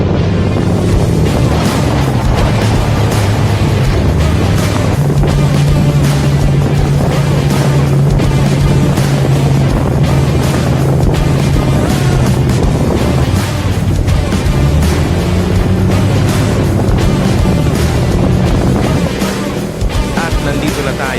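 Motorcycle engine and wind rush fill a night ride through city streets toward BGC, a loud continuous drone with pulsing throttle changes throughout.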